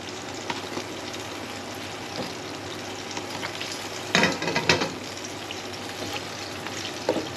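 Bush doughnuts fry in hot oil with a steady close sizzle and crackle, broken by a few brief louder bursts of bubbling and clatter.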